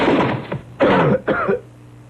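Three harsh coughs in close succession, loud and near, the first longer and rougher, then a quiet pause.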